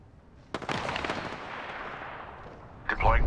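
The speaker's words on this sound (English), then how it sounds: "Opening fire." Video game gunfire, a quick rattling burst of shots that trails into a lingering rumble, then more firing at the end, with a voice heard briefly.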